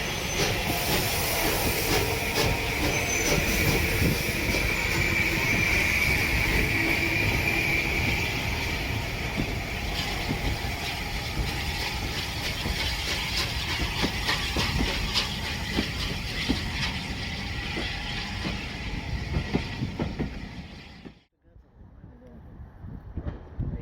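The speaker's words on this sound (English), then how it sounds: "And there she goes, departing with the light rhythm of a three-cylinder engine." A three-cylinder steam locomotive pulling out at a heritage railway winter steam gala, with a dense, loud rush of exhaust beats and hiss under rolling train noise that cuts off abruptly near the end.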